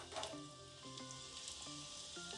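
Nigella and carom seeds sizzle steadily in hot oil, a dense continuous crackle that holds at moderate level throughout with no talking, part of making a winter massage oil for kids.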